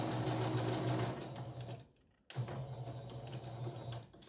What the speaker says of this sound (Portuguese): A emenda você faz aqui na máquina mesmo